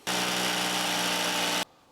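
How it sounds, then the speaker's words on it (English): An electric drill with a 10mm bit runs through a wall to make a pilot hole, giving one steady, loud, close whine that starts abruptly, holds an even pitch for about a second and a half, then cuts off. "I'm going to get the drill out now with a little 10mm bit or something like that."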